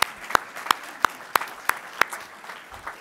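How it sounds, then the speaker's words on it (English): Seven sharp, evenly spaced claps ring out about a third of a second apart, close and fairly loud, then fade into quiet room noise. "if you could give some applause"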